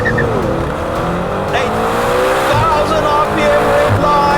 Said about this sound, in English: What's always impressed me about McLaren engines is how quickly they rev up.